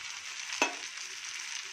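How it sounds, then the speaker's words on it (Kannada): Grated coconut mixture sautéing in a pan makes a steady, close frying sizzle with one brief scrape or stir partway through and no voices. "ಇದು ಸ್ವಲ್ಪ ಬಾಡಿಸ್ತೀನಿ."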